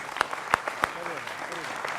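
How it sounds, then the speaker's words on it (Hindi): Applause from a studio audience at a televised Hindi political debate show, a dense wash of clapping with a few louder individual claps standing out, fairly distant. "तो जोरदार तालियों से जनता जनार्दन का भी अभिनंदन है।"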